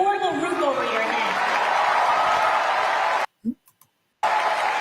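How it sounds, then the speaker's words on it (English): Town hall audience applauding, a dense steady wash of clapping with a few voices and laughter mixed in, ending abruptly in a short silence before the clapping returns. "Now you hear all of that clapping."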